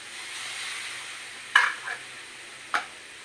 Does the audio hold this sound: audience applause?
no